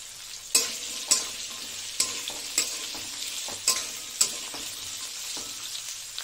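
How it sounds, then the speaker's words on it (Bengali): Onion and green chili fry in an oiled pan, a bright continuous sizzle up close, punctuated by regular sharp scrapes and taps of a spatula stirring about every half second. "পেঁয়াজ আর লঙ্কা, এটা দিয়ে দেবো। এটার সঙ্গে ভাজা হয়ে যাক।"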